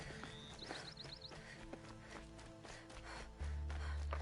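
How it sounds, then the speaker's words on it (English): Horse in the video game Horizon Zero Dawn, heard as clip-clop hoofbeats and movement amid in-game ambience, with a sudden loud low rumble entering near the end. "There's a horse out there."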